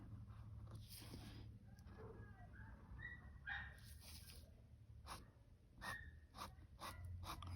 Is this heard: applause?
no